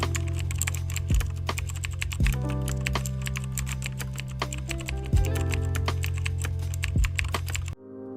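Steady fast typing on a computer keyboard while goals are written down for 2025 planning, rapid clicking keystrokes up close, continuing for several seconds before stopping abruptly.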